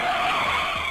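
A car's tires screech in a short, sharp skid that is loud and sustained for about a second before cutting off, with no other sounds.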